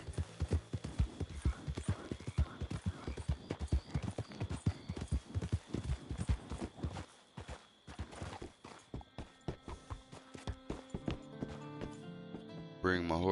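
Horse hooves clip-clop in a steady walking rhythm near a train track, loud and close for most of the stretch before tapering off, with a voice talking over parts of it.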